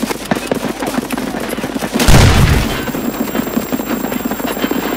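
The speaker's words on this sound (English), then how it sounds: "More grenades!" Gunfire and a grenade blast in the multiplayer shooter Escape From Tarkov: steady crackling shots throughout, with a loud, booming explosion about midway that rumbles for a moment before the rapid firing carries on.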